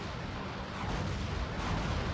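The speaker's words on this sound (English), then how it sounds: "that is definitely the Half-Life explosion sound" The Half-Life explosion sound playing in Metal Wolf Chaos XD, a dense rumbling blast with sustained broadband roar lasting a couple of seconds, loud and steady with no talk over it.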